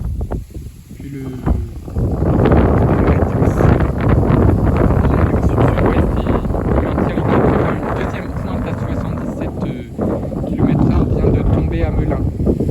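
Strong southerly wind gusts buffet the microphone in a loud, continuous broadband roar that swells and eases over several seconds, with faint rustling underneath.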